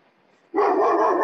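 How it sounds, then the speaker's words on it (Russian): A dog barks once close by, a single sustained bark after a moment of near silence, cutting loudly into a quiet room during an online lecture. "А вот лаять на нас совершенно не обязательно, Александр"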